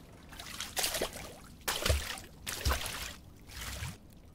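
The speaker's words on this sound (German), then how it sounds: "Oh, da ist tatsächlich ganz schön viel Wasser, aber wo kommt das denn her?" Water trickling and splashing in the horror game Ad Infinitum, coming in four rising surges of dribbling, sloshing flow with short quieter gaps between them, moderately close.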